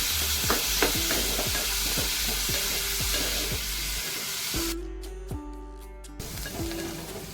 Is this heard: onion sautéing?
yes